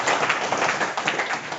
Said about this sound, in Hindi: आपकी तरफ से ताली